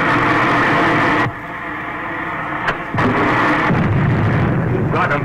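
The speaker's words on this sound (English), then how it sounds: "Man the gun, Flash" Gunfire and explosions from a ship's gun during a space dogfight in an old sci-fi film, loud rumbling blasts in dense bursts with a brief drop in intensity midway and sharp pops before the roar returns.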